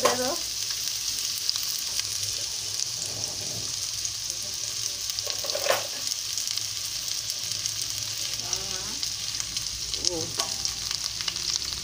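Onions and green chillies sizzle steadily in hot oil in a home kitchen pan, a continuous frying hiss with occasional stirring scrapes, close and moderately loud throughout, with faint brief voices in the background.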